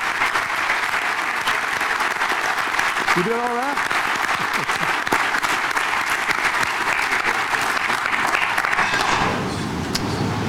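An audience applauds honorees at a 1962 Northwestern Wildcats football panel, a steady, dense wash of clapping that lasts about ten seconds, with a voice briefly speaking over it.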